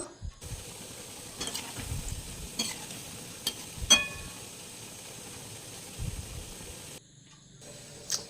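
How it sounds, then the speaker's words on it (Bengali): Palm fruit fritters (taler bora) fry in hot oil, giving a steady low sizzle with a few stirring knocks and clinks, then a brief quieter stretch near the end. "এইভাবে আমি মানে ভেজে নেব সবগুলো"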